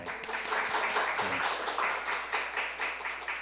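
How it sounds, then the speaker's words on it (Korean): Congregation applause during a Wednesday church service honoring two elders, a steady dense clapping that fills the room for the whole stretch. "그런 의미에서 박수 한번 치더라"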